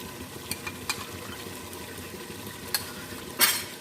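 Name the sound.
stirring yogurt into mutton paya curry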